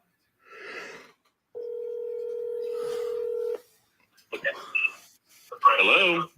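Telephone line tone from an accidental pocket call: a single steady electronic tone held for about two seconds, with voices talking before and after it.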